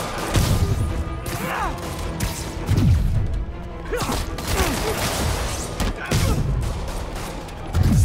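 Police gunfire rattles through a busy street battle in Marvel's Spider-Man on PS4 Pro, with dense repeated shots, crashes and impacts layered loudly throughout.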